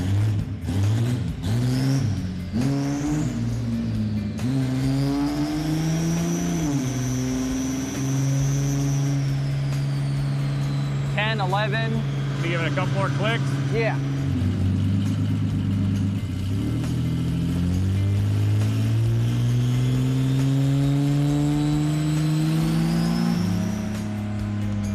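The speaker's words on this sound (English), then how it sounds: "We've got our Grand National on the dyno. It sounds awesome." A Buick Grand National's turbocharged engine revs on a chassis dyno in a garage, a loud steady drone whose pitch swings up and down through repeated rises and falls, with a few voices speaking briefly over it.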